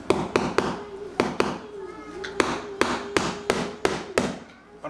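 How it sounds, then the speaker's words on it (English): Hammer blows land in a home setting, about a dozen sharp, loud strikes in uneven bursts, some in quick pairs, with a little talk around them. "I don't have a heavy hammer either."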